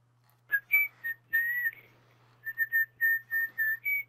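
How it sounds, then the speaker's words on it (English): A person whistles a short tune of clear, bright notes, a few in a cluster, a pause, then a quicker run of notes. "I was whistling like an old man."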